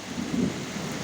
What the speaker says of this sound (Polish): Piękna ulewa.